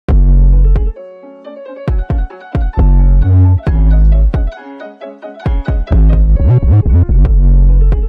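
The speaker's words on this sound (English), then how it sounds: "The kick and 808 sound like this." A heavy classical drill beat with booming kick drums and sustained 808 sub-bass hits, punctuated by sharp transients and brief silent gaps, with melodic layers on top.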